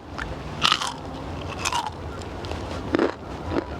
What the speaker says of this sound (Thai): จะมาชิมดูกรอบไหมเนาะเอาชิ้นนี้